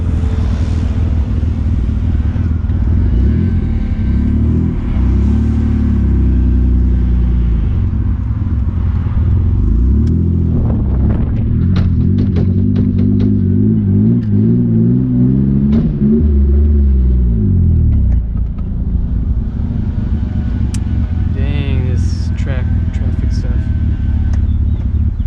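A Mitsubishi Eclipse GTS with a bad manual transmission drones steadily from inside the cabin, its low engine note rising and falling in pitch as it is driven, with rattly clatter over the top.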